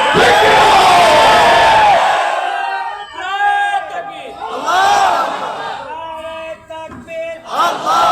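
At a religious sermon gathering, a large crowd shouts a slogan in unison, loud and roaring, then answers in repeated chanted bursts after a lead voice.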